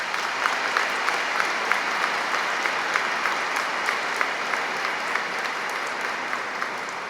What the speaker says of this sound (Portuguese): Nós te acolhemos desde já com uma calorosa salva de palmas.